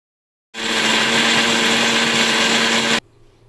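A mixer grinder starts abruptly and runs at a loud, steady whir for about two and a half seconds, blending ridge gourd chutney with salt and tamarind, then cuts off.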